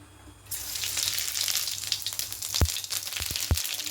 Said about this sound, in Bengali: যে সর্ষের তেল দিয়েছি তেলটা গরম হয়ে গেছে এবার ফোড়নে দেব গোটা জিরে